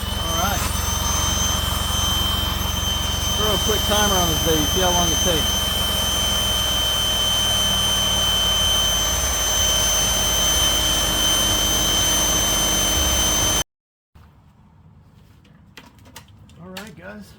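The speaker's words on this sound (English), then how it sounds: "that was using my Intex 110 air pump" An Intex 110 electric air pump inflating an air mattress for a truck bed tent setup gives a loud, steady whirring drone with someone talking over it. It cuts off abruptly near the end, leaving quieter background sounds.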